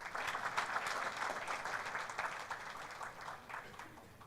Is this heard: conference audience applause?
yes